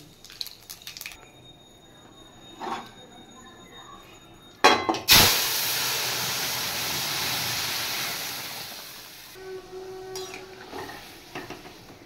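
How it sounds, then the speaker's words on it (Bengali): Dry red chilli and nigella seeds hit hot oil to temper a Bengali radish dal, giving a sudden loud burst of sizzling that settles into a steady hiss, with a few clinks of a utensil against the pot before and after. "এবার মূলোর ডাল ফোড়ন দিয়ে নেব, শুকনো লঙ্কা আর কালো জিরে"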